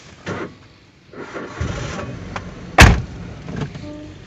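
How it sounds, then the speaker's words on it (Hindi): A used car's engine cranks and catches with a sharp burst, preceded by a few thuds and rustles inside the vehicle, close and fairly loud. "आपण गाड़ी स्टार्ट करेंगे"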